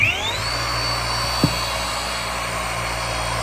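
A boat polishing machine switched on and running nearby, a loud steady motor whine with a rising pitch at startup that holds constant, with one brief knock partway through and no speech.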